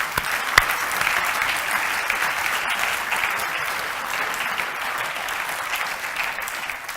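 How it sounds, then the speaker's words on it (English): A large audience at a research day panel discussion claps steadily in a dense, even round of applause that holds for several seconds, fairly loud, with no one speaking over it. "Let's give them a round of applause"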